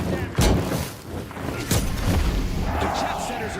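Explosions in a shooter video game hit as sharp booms, a close one, then another a second later, followed by rolling rumble and a voice talking.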